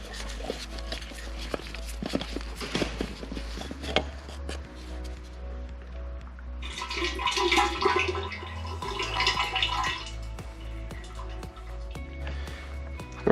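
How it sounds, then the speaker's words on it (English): Oil pours out of a Volvo 2.0L oil filter housing into a drain pan, a wet gurgling splash that swells in the middle, with clanks and handling noises nearby. "we dump the rest of the oil out into the oil pan"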